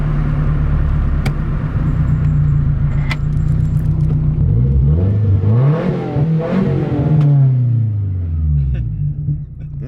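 A Nissan 240SX with its muffler deleted, loud and close: a rough idle rumble, then two or three quick revs climb and fall, followed by a longer rev that winds down. A voice talks briefly over it.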